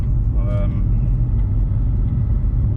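A Vauxhall Astra VXR accelerates with a loud, steady low engine rumble close by, a brief voice cutting in near the start.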